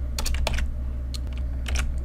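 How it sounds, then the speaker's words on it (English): Keys on a computer keyboard are tapped in a few short bursts of clicks with pauses between, close and clear over a low steady background hum. "So let's type range"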